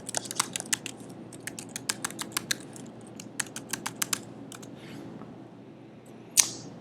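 Keys clatter on a computer keyboard as a university username and password are typed in, a quick uneven run of crisp clicks with short pauses, ending in one sharper tap.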